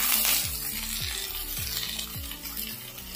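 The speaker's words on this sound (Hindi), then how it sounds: "डाल देते हैं हमारा बैगन, चलाएंगे इसको थोड़ी देर।" Eggplant fries in hot mustard oil in a kadhai, a loud continuous sizzle with repeated rhythmic stirring strokes about every half second, close up and without voices.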